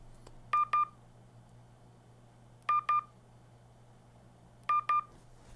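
Locate sound from a Fitbit Ace LTE kids smartwatch, three repeated pairs of short electronic beeps spaced about two seconds apart, clear and close over a faint background hum.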